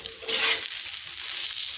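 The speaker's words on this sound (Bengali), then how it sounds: "শুধু কাঁচামরিচ দিয়া করতেছি ডিম ভাজা" An egg with chopped green chilli sizzles in hot oil in a pan, a brief soft hiss that swells quickly into a bright, close, steady crackle with no talking.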